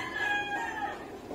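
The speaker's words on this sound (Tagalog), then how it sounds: "Tinatawag na ako ng manok" A rooster crows once, a single drawn-out call at moderate distance, heard clearly over faint background hiss.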